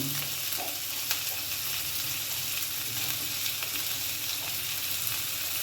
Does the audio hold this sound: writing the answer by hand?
no